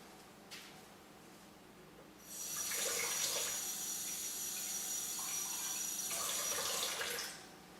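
Water runs from a kitchen tap while pizza dough is being made, a steady splashing stream of about five seconds that starts and stops cleanly, with a faint click just before.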